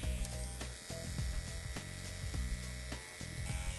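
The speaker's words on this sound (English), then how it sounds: "Now we're going to use our shrimp detailers, or some people call them edgers, to do our finish work." A Dura CHI edger trimmer buzzes steadily at close range while detailing around the ears during a haircut, its drone dipping and swelling as the blade moves, with no talking.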